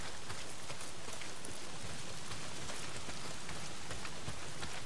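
Heavy rain pours down steadily in the post-apocalyptic video game Days Gone, a dense, even hiss of countless drops hitting surfaces with no letup.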